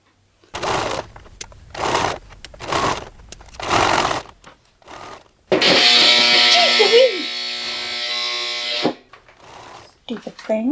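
A sewing machine runs in one steady, buzzing burst of about three seconds while sleeve hems are stitched on a dress made from a 1940s pattern, preceded by someone talking and followed by further speech.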